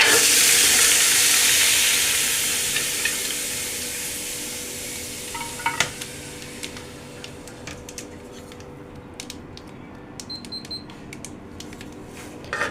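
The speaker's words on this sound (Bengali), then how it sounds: "ঘিটা গরম হয়ে আসলে আমি দিয়ে দেব এই বুটের ডালগুলো" Chana dal hitting hot ghee in a pan for halwa, a loud burst of hissing sizzle that gradually softens into quieter frying, with scattered clinks and scrapes of stirring close by.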